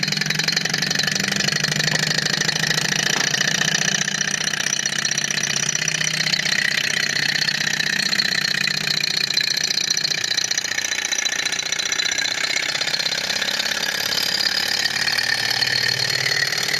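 A small Stirling engine heated by fire runs steadily with a dense, rapid mechanical clatter and hum that holds loud and continuous throughout, no voices over it.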